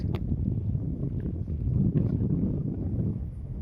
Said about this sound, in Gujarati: મસ્ત મજાનું મીઠો મીઠો ઠંડો ઠંડો પવન આવે છે